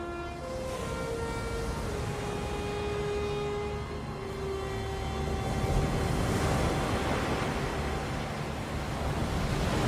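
Ocean waves wash continuously onto a shore with a broad rushing surf, mixed with a few sustained musical tones and swelling slightly toward the end.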